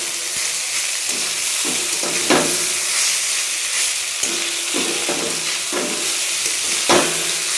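Chowmein with fried potatoes being stirred in a hot pan: a continuous loud sizzle broken by repeated spatula scrapes and clanks at an uneven rhythm, with no voices.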